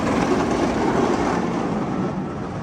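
Empty Batman roller coaster train at Six Flags Magic Mountain rumbling and rattling along the track, a steady, fairly loud broadband roar that fades slightly toward the end.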